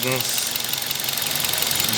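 A Toyota Corolla engine runs with a slight misfire, a loud, close, steady mechanical drone with an uneven pulsing texture, and a voice is heard over it.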